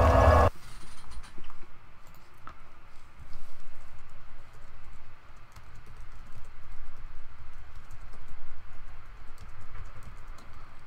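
Computer keyboard typing during a Dark Souls 2 play session, a quiet, irregular patter of key clicks running steadily throughout after a brief louder burst at the very start.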